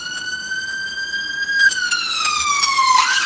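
An ambulance siren wails loud and near. Its steady tone shifts pitch and then sweeps downward, and no voices are heard.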